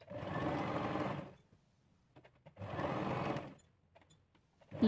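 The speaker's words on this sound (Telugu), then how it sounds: "నేను పిన్స్ పెట్టి నేను ఇలా కుడుతున్నాను." A sewing machine stitches pinned elbow-sleeve fabric in two bursts of about one and a half seconds each, separated by quiet pauses with faint handling clicks.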